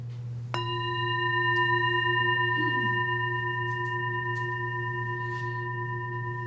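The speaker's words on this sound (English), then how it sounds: "it will begin and end with the sound of the mindfulness bell" A single mindfulness bell is struck once, its clear tone ringing out with steady harmonics that sustain and slowly fade over a low constant hum.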